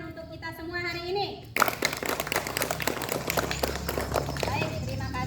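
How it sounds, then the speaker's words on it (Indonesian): Classroom applause as students clap together at the end of a lesson: a teacher's voice, then sudden lively clapping mixed with children's chatter and shuffling. "tepuk tangan untuk kita semua hari ini."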